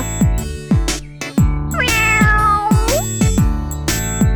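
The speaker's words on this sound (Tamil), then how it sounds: "அந்த இடத்துல அவ ஒரு அழகான பூனைக்குட்டியை பார்த்தா" A kitten in a children's animated story gives a run of meows, several short calls and one long drawn-out wail in the middle, loud and close over a steady musical backing with bouncy plucked notes.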